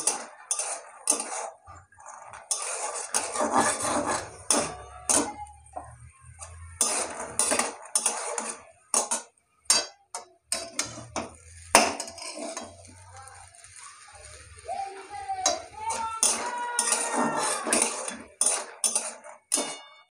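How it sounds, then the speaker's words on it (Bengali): Peanuts being fried and stirred in a pan, with repeated scraping and clattering of a metal spatula against the pan in uneven bursts, a faint sizzle between strokes, close by. "এখানে বাদাম ভাজছি, বাদামগুলো এর মধ্যে দিয়ে দেবো।"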